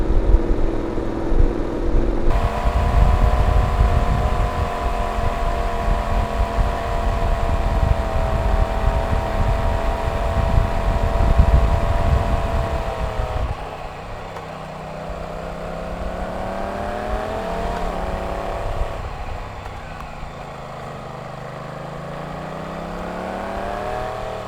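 Honda NC750X with DCT automatic gearbox descending an icy mountain road, its engine humming steadily and close, the drone easing off as the bike slows, then rising and falling gently in pitch.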